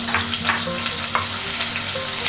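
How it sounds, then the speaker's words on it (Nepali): Chopped onions sizzle steadily in hot oil in a pan for a taro root and taro leaf curry, with intermittent scraping clicks of a spoon stirring them, close and continuous with no talking. "यसलाई हामीले चलाउँ यो प्याज अलिकति हल्का ब्राउन होस्"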